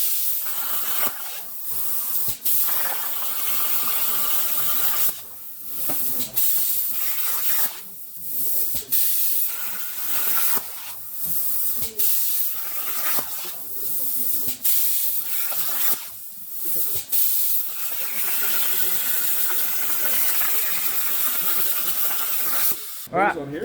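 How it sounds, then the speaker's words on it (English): Steel plate being welded onto a car's custom exhaust, heard as long bursts of crackling, hissing arc that start and stop repeatedly with brief quiet gaps between passes. "I'll weld all the way around it"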